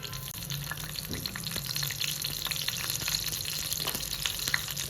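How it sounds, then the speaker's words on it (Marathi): Green chillies crackle and sizzle in hot oil for a tempering for raw mango kadhi, a continuous hissing fry with scattered pops at moderate loudness. "आणि तेल गरम होऊ देते आणि हिरवी मिरची तडका करून घेऊया आपण"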